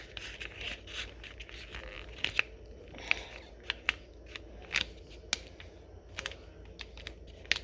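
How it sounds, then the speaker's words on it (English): Scissors cut through paper with a series of quiet, irregular snips and crisp paper rustles, heard close and alone with no voices. "grab your scissors, carefully cut 2 fingers of it"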